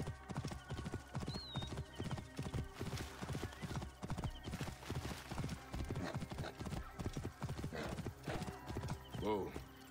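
Horse hooves clip-clopping in Assassin's Creed Origins, a fast, steady rhythmic trot throughout with a brief whinny near the end; a voice talks over the hoofbeats.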